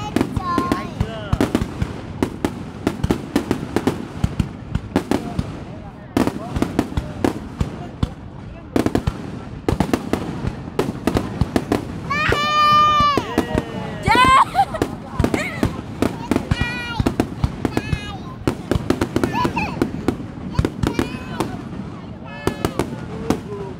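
New Year fireworks burst repeatedly in dense, overlapping cracks and booms, some with whistling rising streaks, filling the scene continuously while people talk and exclaim nearby.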